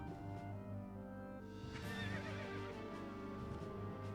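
In a video game battle, a horse gives a clear whinny over a dense bed of game music and ambience, and soft hoof clip-clops sound along with it.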